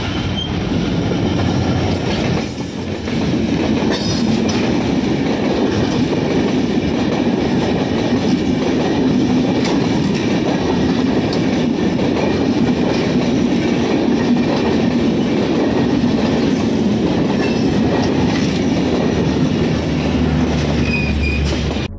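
A train rumbles past close by with a continuous loud roar of rolling wheels, faint clickety-clack and occasional squealing, steady for the whole stretch.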